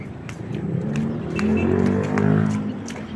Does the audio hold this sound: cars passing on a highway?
yes